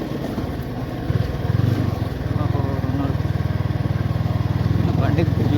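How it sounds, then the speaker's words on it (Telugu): Vehicle engine with a steady rattling chug on a bumpy off-road ride through green countryside, loud and close throughout, with a voice talking over it at times. "బండి గుల్ల గుల్ల అవుతుంది"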